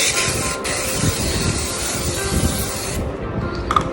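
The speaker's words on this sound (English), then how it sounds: "To the baking tin I am going to just spray some spray light, the baking spray" A steady hiss of baking spray sprays close up into a baking tin, with faint clatter at the end.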